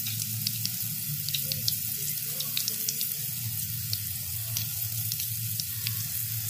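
Chilli peppers stuffed with potato and wrapped in appadam fry in oil over a low flame, a steady close sizzle with scattered small pops and crackles throughout.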